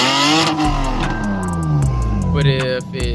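A Lexus GS300 car engine revs loudly up and down during a ride after a coilover install, its pitch climbing and falling as a voice talks over it.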